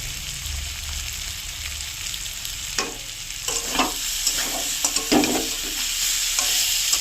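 Fried potatoes and chili powder stirred into a frying squash curry in a pan: a steady close sizzle of hot oil with scraping, clattering stirs of a spoon growing busier toward the end, with no talking.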